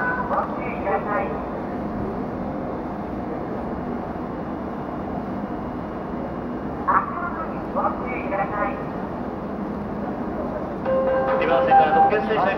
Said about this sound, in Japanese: リバーセンから特急列車キリ139号を発車いたします